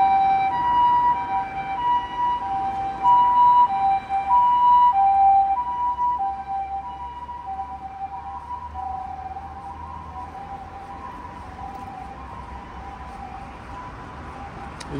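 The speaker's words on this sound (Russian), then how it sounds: "Скорая" An ambulance siren in Osaka wails with alternating tones over road traffic noise, loud at first and then fading as it moves farther away.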